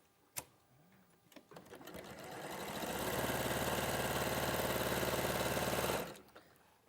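A sewing machine runs steadily for about three seconds while stitching fabric pieces along a marked line, close and even, after a few soft handling clicks and taps.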